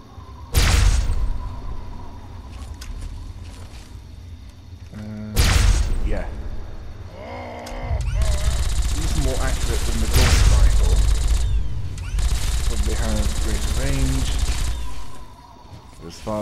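In Fallout 3, a Tesla cannon fires several heavy, booming blasts separated by pauses, with explosive crackling tails and rumbling impacts. Someone talks between and over the shots.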